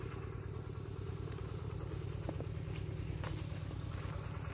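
A farm tractor in rural Laos rumbles steadily as it drives out, its low engine drone continuous and moderately distant, with faint clatter over it.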